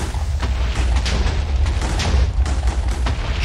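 A heavy, continuous roar of booming Minecraft TNT blasts rumbles loud and close, with repeated bursts layered over a deep low thunder.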